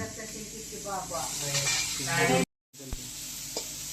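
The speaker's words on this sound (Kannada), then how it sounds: "ಈಗ ನಾವು ಪಲಾಂಡು ಫ್ರೈ ಮಾಡ್ತಾ ಇದ್ದೇವೆ." Onions frying in a pan with a close, steady sizzle and stirring scrapes; a voice talks over the first part, and there is a brief cut of silence before the sizzling resumes more quietly.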